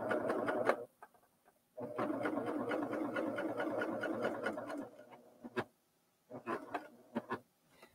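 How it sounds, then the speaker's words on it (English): A sewing machine stitches fabric in quick rattling bursts, a long run of rapid needle clatter followed by shorter stop-start spurts with quiet gaps. "I'm going to sew all the way to the end of my fabric."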